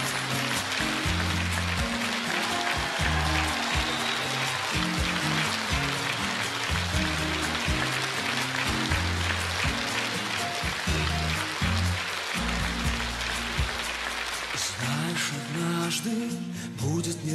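A concert audience keeps up a dense, steady patter of applause for a long stretch, heard over loud music playing throughout.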